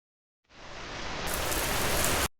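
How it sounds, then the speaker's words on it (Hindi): A heavy rain sound effect in a Hindi advertisement for Unico pipes and water tanks rises in abruptly as a loud, dense downpour hiss, holds steady for nearly two seconds, then cuts off sharply. "या हो तेज बारिश की बौछार"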